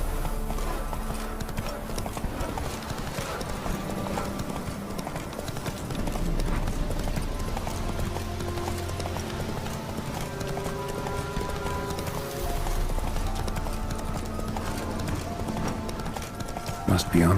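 Roach, a horse in the video game The Witcher 3, gallops with steady rhythmic hoof clip-clops under game music and ambience, with a brief spoken line and a whinny near the end.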